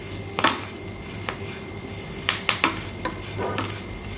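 Moringa (drumstick) leaves fry in a pan for chutney: a quiet steady sizzle broken by a handful of sharp spatula clinks and stirring scrapes against the pan.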